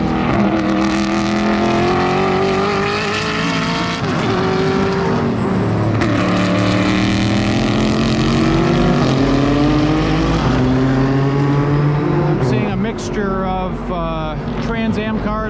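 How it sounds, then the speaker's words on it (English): Mixed-class GT race cars, from late-1990s Trans Am cars up to IMSA prototypes, roar loudly through turn 8 at Road America, engines sustained and shifting pitch as they pass close by, with a brief burst of changing notes near the end. "Trans Am cars from late 90s, early 2000s, and all the way up to IMSA prototypes in this class."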